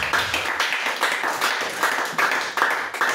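Worshippers at a church service clap along in a fairly regular rhythm, a full-room patter of hands with no voices standing out.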